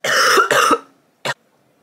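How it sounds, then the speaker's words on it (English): Two long, harsh coughs in quick succession, then a short third cough after a pause, close and loud with silence between. "I can't stop coughing."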